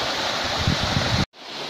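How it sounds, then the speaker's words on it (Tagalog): A small waterfall at Comval Eco Park in Monkayo makes a steady, broad rushing roar that cuts off abruptly near the end of the brief clip. "papakita ko lang sa inyo yung falls"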